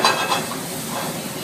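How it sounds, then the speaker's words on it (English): Morel mushrooms seasoned with salt, pepper and thyme sizzle in a hot pan, a soft steady frying hiss with a brief louder crackle at the start. "Got a little bit of sizzle."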